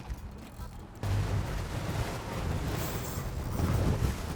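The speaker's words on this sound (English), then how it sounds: "Fire up the big motor." A large outboard motor on a tarpon fishing boat off Miami roars to life partway through, a loud, steady rumble mixed with wind and water noise.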